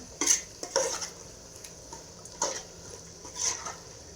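A spoon stirs tomatoes into biryani masala in a pot, giving several separate scraping clinks against the metal over a soft background sizzle, close by and without voices.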